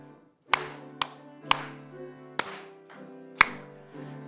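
Congregation clapping along during church worship. The claps fall as sharp, evenly spaced accents about once a second, sitting over sustained singing or organ-like tones. No one speaks.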